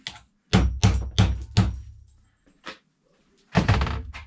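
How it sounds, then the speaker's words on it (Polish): A hammer strikes salvaged electronic scrap for aluminium recovery: four sharp, loud knocks in quick succession, then a faint tap and one more hard strike after a pause, close and without speech. "Czekajcie, puknę sobie młotkiem."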